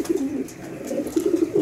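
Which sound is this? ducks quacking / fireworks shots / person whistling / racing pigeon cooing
racing pigeon cooing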